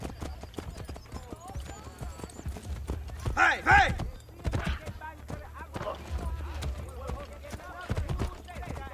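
Horse hooves clopping at a steady gait in Assassin's Creed: Brotherhood, close and continuous, with a brief whinny and someone shouting over them partway through.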